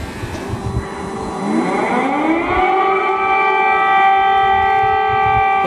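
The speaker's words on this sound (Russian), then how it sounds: "Вышла на улицу, загудела сирена." An air raid siren wails outdoors, its long tones rising and bending upward before settling into a loud, steady sustained wail over background noise.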